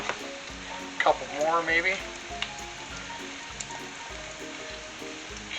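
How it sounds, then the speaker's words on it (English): Swedish meatballs fry in batches in a pan, giving a continuous close sizzle with occasional crackles, while a person talks briefly over it. "So I'm going to cook these off in some batches,"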